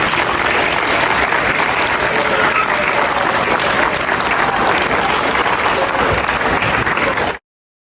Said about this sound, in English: give yourselves a round of applause for finishing up this